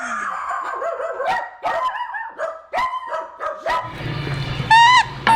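Several dogs bark and yip in quick, irregular bursts close by, with a howl-like drawn-out note near the end, all fairly loud and with no talk over them.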